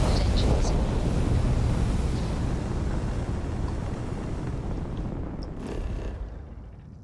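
Low, steady rumble of standard spaceship engines in the game Starfield, a broad roar that holds through the clip, loudest at the start and easing slightly, with a faint swell near the end.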